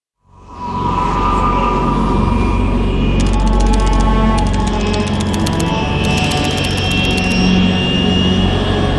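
A jet aircraft cruising high over the Arctic Ocean in Metal Gear Solid 3, a loud, steady engine roar that swells in at the start and holds, with faint rapid clicking and beeping layered over it.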